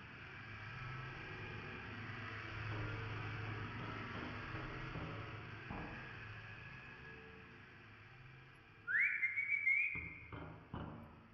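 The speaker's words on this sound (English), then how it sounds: "Just gonna keep whistling." A person whistling during an indie horror game, heard as a short rising whistled phrase near the end that stands out clearly over quiet, low background rumble.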